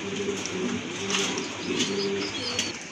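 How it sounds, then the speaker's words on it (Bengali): Pigeons for sale coo in low, repeated throaty phrases, steady and close, with no talk over them. "আরেক জোড়া কবুতর আছে এখানে"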